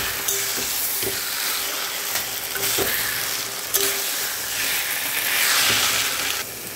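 Taro leaves and hilsa fish heads fry in a pan, giving a loud, close, continuous sizzle with occasional stirring scrapes and clatters. No one speaks.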